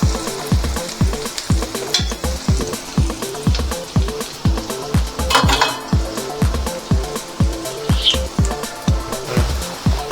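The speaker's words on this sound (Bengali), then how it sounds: "তো রসুনগুলো দেখছেন হালকা হালকা ভাজা হয়ে গেছে।" Garlic sizzles in a pan for butter garlic chicken while a utensil stirs it in a steady rhythm of loud scrapes and clatters, about two per second, close and without talk.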